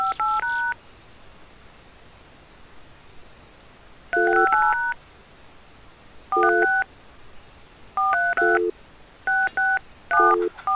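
Telephone keypad dialing in the Jurassic Park: Trespasser video game: a series of clear touch-tone beeps in separate clusters, some single and some in quick runs of several keys, spaced by quiet pauses.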